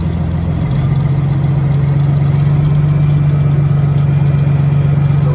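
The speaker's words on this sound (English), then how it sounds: "It seems like it's running fine. Idling fine." A 1993 Freightliner FLD120 flat-top truck with a Caterpillar 3406B diesel idles steadily, giving a loud, even low drone with no breaks and no talk.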